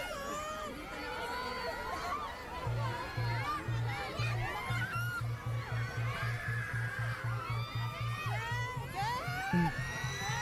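A dense outdoor crowd of fans screams and cheers in high, overlapping shrieks as SB19 appear at the DAM Tree in BGC, loud and sustained, with a low rhythmic thumping running beneath it.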